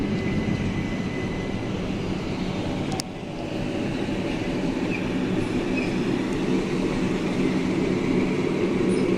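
Southern class 377 electric train passing a level crossing at Whyteleaf, a steady broad rumble and rolling wheel noise at moderate distance, sustained throughout without speech.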